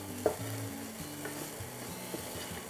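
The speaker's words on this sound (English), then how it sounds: "I'm going to lightly saute this potato." Potato pieces with salt sautéing in a pan, a faint steady sizzle broken by a couple of soft scraping stirs, close and with no talking.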